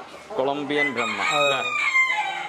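A Colombian Brahma fancy chicken crows at a poultry farm, one drawn-out, wavering call lasting a couple of seconds, loud and close, with no talk over it.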